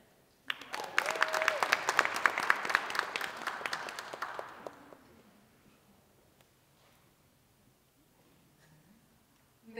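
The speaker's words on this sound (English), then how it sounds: "Another round of applause for these fabulous queens." An audience at the Miss Syracuse and Miss CNY 2022 pageant gives a burst of crisp applause with distinct claps, swelling quickly then tapering away after about four seconds into near quiet.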